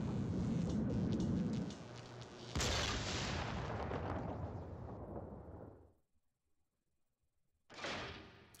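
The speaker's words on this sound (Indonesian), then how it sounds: "Ya, harusnya sih tinggal giniin meledak ya." Loud, rumbling video game explosion in Ghost Trick Phantom Detective, a sharp blast followed by a long crackling decay that fades to silence, then a brief burst of noise returns near the end.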